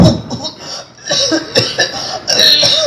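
Several rough coughs close to the microphone, mixed with throat noises and brief vocal sounds.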